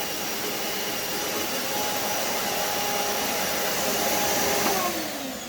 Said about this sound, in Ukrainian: Ось, будь ласка, пилосос працює.